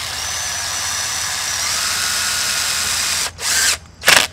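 A power drill drives a 1-inch sheet metal screw into a fence corner post for a gate setup, with a long steady whine, then two short final bursts as it seats, close and loud.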